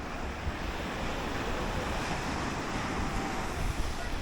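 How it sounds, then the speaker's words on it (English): Ocean waves at Crystal Bay Beach on Nusa Penida, a steady broad wash of surf with wind rushing across the microphone, continuous and fairly loud with no talk. "By contrast, this is Crystal Bay Beach."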